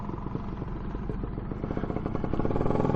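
Scooter engine running under load while being ridden at a rally in Norway, a steady close rumble with rattling clatter that grows slightly louder toward the end.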